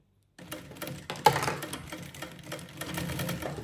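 A sewing machine stitches the finishing seam on a fabric lunch bag, starting abruptly after a short silence and running in a steady rapid whir with a brief louder clack near the start.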